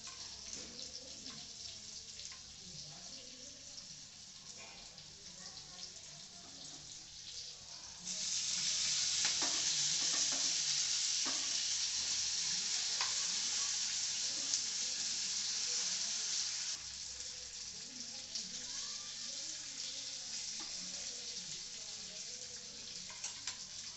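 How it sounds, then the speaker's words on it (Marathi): A spicy tempering of green chillies, asafoetida and plenty of curry leaves for dadpe pohe sizzles and crackles in hot oil. A soft hiss becomes a louder burst midway, then settles back to a gentler sizzle. "फोडणीचा सरळ असा आवाज येतो"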